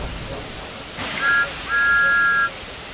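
Two short high steam engine whistle toots in a Thomas the Tank Engine video game, a brief one then a longer held one, over a steady breathy hiss.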